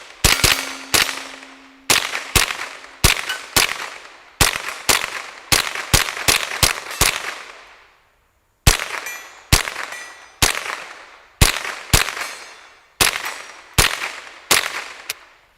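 A Ruger 10/22 rifle in a Gungner GR22 chassis fires a long string of sharp, loud .22 shots, each a crisp crack with a brief ringing tail, spaced irregularly with one short pause midway.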